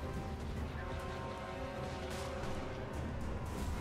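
Artillery fire in a Total War: Warhammer multiplayer battle, a dense continuous rumble of booms and blasts layered over battle noise, steady and loud throughout.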